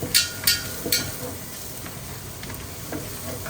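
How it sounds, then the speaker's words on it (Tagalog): Garlic granules being stirred in a hot pan for Thai pork green curry, with three sharp scraping clinks of the utensil at the start over a soft, steady sizzle. "Tapos haluin natin."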